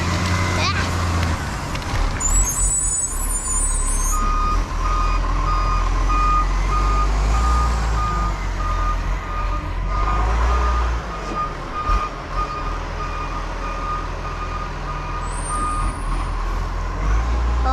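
A garbage truck gives steady, repeated reversing beeps over a loud low diesel rumble with occasional air brake hisses, heard nearby on a street with traffic, while people talk now and then.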